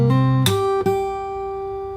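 Fingerstyle acoustic guitar plays the final bar of a section, a bass note then two bright percussive slaps, leaving a sustained chord ringing out, close and alone.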